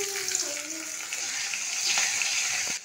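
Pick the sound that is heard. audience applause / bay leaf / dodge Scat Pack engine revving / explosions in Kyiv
bay leaf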